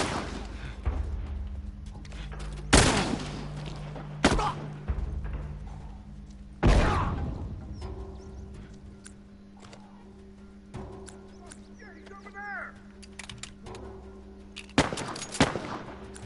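Rifle and shotgun fire in a video game crack out as several loud, sharp single blasts spread irregularly over a droning background, with brief bursts of rapid shots near the end.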